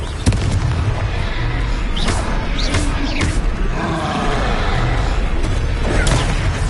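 A Confringo spell explodes in Hogwarts Legacy, with a heavy booming burst near the start and further cracking blasts over a dense battle rumble. A voice shouts the incantation.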